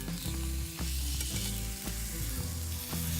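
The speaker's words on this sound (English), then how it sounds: "Sear both sides in a cast iron pan for 5 minutes." A thick-cut pork chop sears in a cast iron pan with a loud, dense, continuous sizzle and crackle, punctuated by a few thumps and knocks of the pan or meat being moved.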